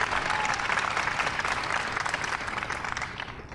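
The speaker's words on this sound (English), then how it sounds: "Give Pranav a big round of applause." A crowd at a White House astronomy night gives a hearty round of applause, loud and dense at first, then gradually thinning and fading toward the end.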